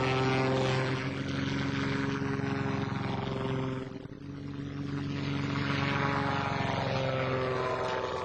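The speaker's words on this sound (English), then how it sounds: "and the Flyer was launched into the air." A propeller aircraft, evoking the Wright brothers' Flyer, drones steadily and loudly overhead, dips briefly midway as it passes, then continues with a continuous engine roar; no talk.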